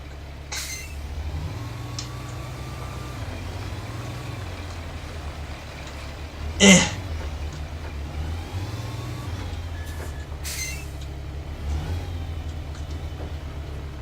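A truck engine in the off-road driving game Spintires: MudRunner hums low and steady, its pitch stepping up and down as it revs, fairly quiet, with a sharp clank near the middle.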